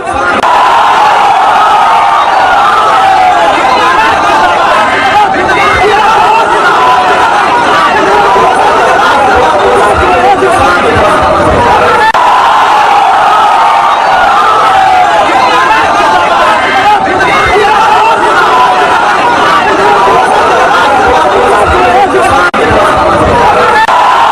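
Large crowd at Asaduddin Owaisi's election rally in Bihar, a loud continuous roar of chatter, shouting and cheering with scattered claps, dense and unbroken throughout.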